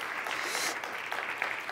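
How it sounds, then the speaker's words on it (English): Audience applause at a grand finale event, a steady wash of clapping from a crowd for a full two seconds, dense and even without pauses. "please give him already a round of applause and a lot of A's"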